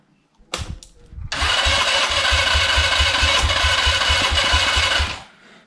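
A GY6 engine in a Mega Hummer 250 buggy cranks with a couple of short bursts, then catches and runs at a steady, loud mid-pitched idle with a pulsing low throb for several seconds before dropping away.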